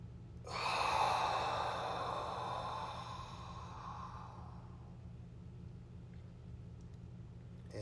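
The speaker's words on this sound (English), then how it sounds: "Take a deep inhale, please." A single deep inhale during a guided meditation, a close, airy breath drawn in over several seconds that slowly fades to quiet room hum.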